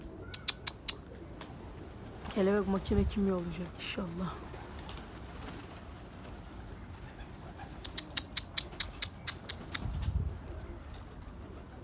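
Pigeons coo in a coop, with soft repeated coos near the start and again later, plus a few sharp clicks and faint wing sounds, while someone talks over part of it.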